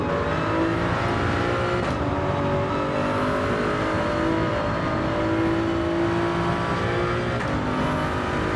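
A Toyota Supra engine roars at high revs in a Gran Turismo 7 race, loud and continuous, with the pitch climbing and dropping at regular gear shifts every couple of seconds, no talking.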